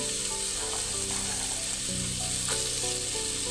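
Vegetables frying in a pan while cooking pulao, with carrots and fresh peas going in: a steady, close sizzle running throughout, with faint stirring scrapes and no talk.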